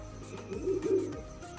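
Pigeon cooing: one soft, low, throaty coo, faint and brief, with quiet background sound around it.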